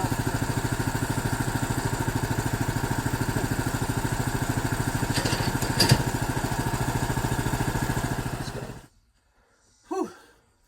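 A portable sawmill engine runs loud and steady while milling a log into lumber, with an even, close rumble for about nine seconds before cutting out abruptly, followed by a brief faint sound.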